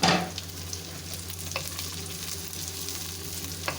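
Cauliflower stalks fry in a pan, a steady close sizzle under scraping stirs, with a louder burst at the start and a brief clatter midway; nobody speaks.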